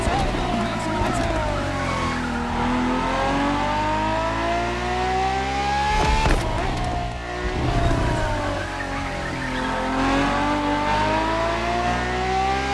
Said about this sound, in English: For this second lap, you'll be driving the FXXK.